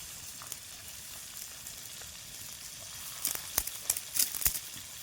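Onions fry in a pan with a soft, steady sizzle, joined near the end by a few louder crackles and stirring scrapes.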